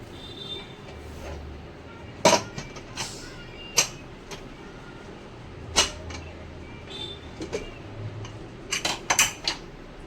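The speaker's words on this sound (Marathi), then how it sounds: "डाळ आता मी खाली उतरवते. आपण खोलून बघूया डाळ आपली कशी शिजली आहे." Kitchen handling of a pressure cooker of masoor dal being lifted down and opened, with scattered clanks and clinks of metal lid and pot, quiet and intermittent, several sharp knocks near the end.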